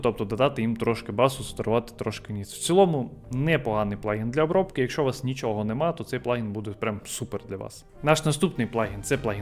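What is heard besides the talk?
None of the usual background noises is heard.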